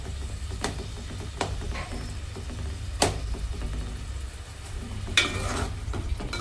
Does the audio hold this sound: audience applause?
no